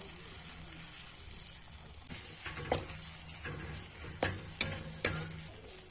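Spice paste with chilli powder and turmeric frying in a pan for chicken makhani, giving a low steady sizzle under several separate scraping strokes of a spoon, close up, with no speech.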